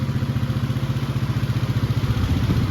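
A 500 vehicle engine idles a little high with a snorkel fitted, giving a steady, close, low pulsing rumble with an even rapid beat and no voices.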